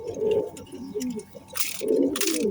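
Oman pigeons, a high-flying breed, cooing close by in low, soft repeated phrases, with brief faint rustling bursts between the calls.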